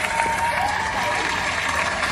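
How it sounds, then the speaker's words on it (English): An audience applauds at a steelpan festival, a dense, continuous wash of clapping that carries on evenly throughout, with a faint tone in the background. "Let's give them a round of applause as well."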